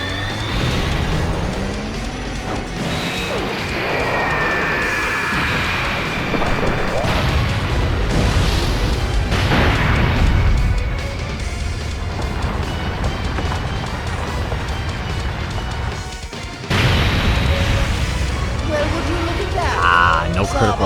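Loud, dense bursts of explosions and booms from an active skill attack by Frieza in a Dragon Ball mobile game, layered with rumbling impacts and sweeping effects that continue nonstop, with a sharp cut near the end.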